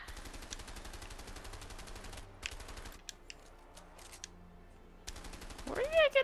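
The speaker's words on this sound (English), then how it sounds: "Where did I get a machine gun again?" Rapid bursts of machine-gun fire from a video game rattle in fast, even strings, pause, then start again. Some faint clatter and brief voice-like sounds come near the end.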